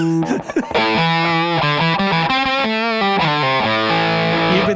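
Yamaha Custom Shop 11-string guitar played through a distorted effects chain with a nasal, honky tone; loud, sustained chords and picked notes ring continuously with no talking.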